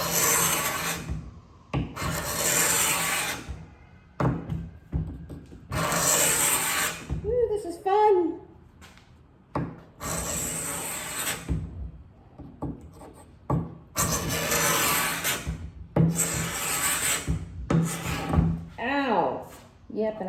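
Carbide scraper rasping across an old wooden dresser in repeated long strokes, a steady loud scraping rhythm broken by short pauses, close by with a few faint voice bits between passes.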